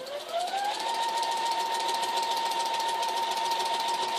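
A sewing machine runs up to speed and then stitches steadily in a fast, even hum during free motion quilting on newspaper, close and alone without any talk.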